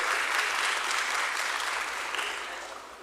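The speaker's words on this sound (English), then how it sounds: "You guys deserve a round of applause." A crowd applauds at a stock exchange listing ceremony with dense, steady clapping that holds strong, then gradually fades over a few seconds.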